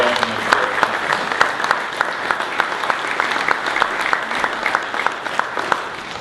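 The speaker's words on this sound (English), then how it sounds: "I think we should give a big round of applause" A large audience claps in sustained, steady applause at a formal government event honoring a finance-sector partnership, the dense clapping carrying on throughout with a few sharper individual claps standing out.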